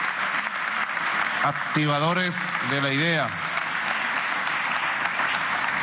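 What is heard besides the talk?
applause for writers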